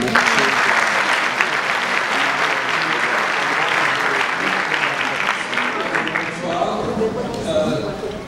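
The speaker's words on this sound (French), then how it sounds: "Merci beaucoup, Alain, on peut l'applaudir." Loud, sustained audience applause fills the room from start to finish, dense clapping fading slightly near the end as it dies down at a talk on Islamophobia.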